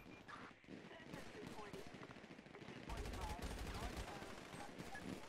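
Bursts of rapid gunfire in the video game GTA crackle throughout, growing louder and denser in the second half, against a noisy, busy background.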